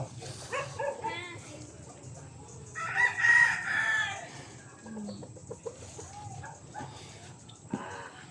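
A rooster crows loudly at a chicken coop amid other chickens clucking nearby, while several people chat over the birds.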